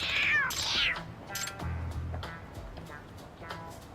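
A stray cat meows in the Lost Judgment video game: one long, loud, rising-and-falling meow up close, followed by quieter in-game street ambience and soft thuds.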